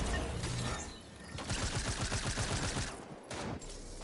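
Gunfire from the video game Fortnite sounds as a rapid, even run of shots in the middle, with louder mixed game noise before and after it.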